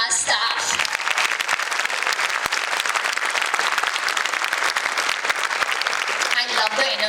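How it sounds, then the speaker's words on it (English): An audience at a children's school event claps loudly and continuously for the whole stretch, dense and close, with brief shouts and a voice cutting in near the start and end. "Keep clapping for them even if you're tired"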